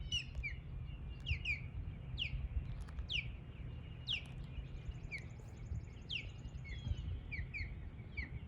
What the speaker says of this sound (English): Now listen to the osprey.